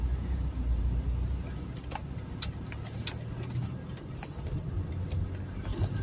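A car drives along a street in Dąbrowa Górnicza after turning around, with a steady low road rumble and engine hum plus light rattles and ticks from inside the cabin.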